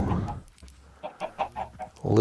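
Minecraft chickens in a hardcore vanilla world give a series of short, evenly spaced clucks, close and clear, ending in a louder burst.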